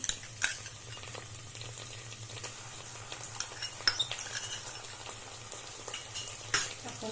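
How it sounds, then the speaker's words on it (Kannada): Ginger garlic paste fries with curry leaves in a pan for capsicum rice bath, giving a steady, close sizzle with a few light stirring scrapes and utensil clinks. No voices are heard. "ಹಸಿ ಹೋಗೋದು ಚೆನ್ನಾಗಿ ಫ್ರೈ ಮಾಡ್ಕೊಳ್ಳಿ"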